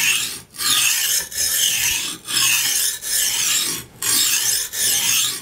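Knife being sharpened on a whetstone, a close, steady rasping scrape repeated in long strokes with short pauses between passes.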